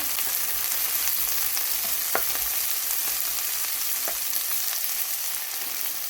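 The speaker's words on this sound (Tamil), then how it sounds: "இந்த வெங்காயத்தோடையே நான் இந்த வட்டி வச்சுருக்கிற பூஞ்சியையும் போட்டு வதக்க போகிறோம்" Onions sauté in a pan for a string hopper dish, giving an even, moderately loud sizzle with a couple of brief spatula knocks against the pan.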